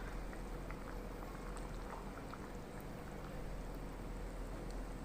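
Paasi paruppu (moong dal) sambar with tomato bubbling in a pot on the stove: a steady, dense boiling hiss and gurgle, continuous and fairly faint, with scattered small pops and no voices.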